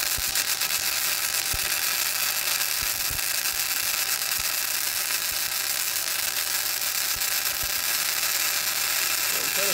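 Flux core welding with a Harbor Freight Titanium Unlimited 200 welder gives a loud, continuous crackling buzz up close, steady throughout with a few sharp pops mixed in.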